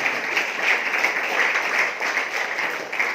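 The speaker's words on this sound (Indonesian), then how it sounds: "tepuk tangan lagi" Audience applause at a modern Islamic boarding school gathering in Serang, Banten, honoring Quran memorizers; steady dense clapping fills the whole stretch at moderate level with no speech over it.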